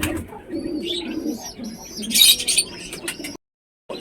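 A black and white lotan pigeon gives soft, low, repeated coos close by, mixed with a few brief higher chirps, before a short moment of silence near the end.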